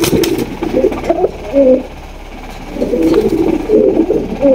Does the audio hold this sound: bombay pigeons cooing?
yes